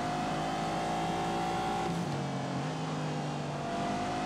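A car engine revs hard at full power in The Grand Tour racing video game, a steady high whine that drops in pitch at a gear shift and then climbs again, loud and alone.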